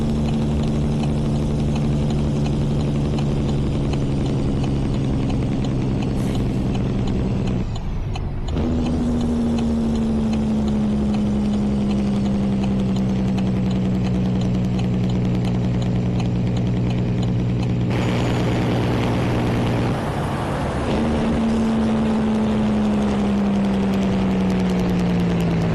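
Steady idling engine from a hardcore survival video game, a continuous loud drone with low harmonic tones that dip briefly twice and settle slightly lower, running alone throughout.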